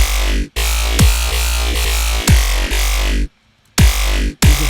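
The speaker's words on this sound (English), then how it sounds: "if I just side chain the sub bass to the kick drum, then it sounds like this" A sub bass is side-chained to a kick drum in an electronic mix, giving a steady pumping rhythm of loud kick hits with the low end ducking after each one and a brief gap near the end.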